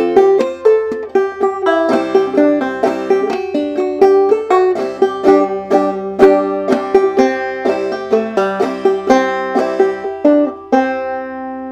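Clawhammer banjo picks out the old-time fiddle tune "Colored Aristocracy" in a steady, bouncy rhythm of plucked notes and brushed chords, close and fairly loud with no voice.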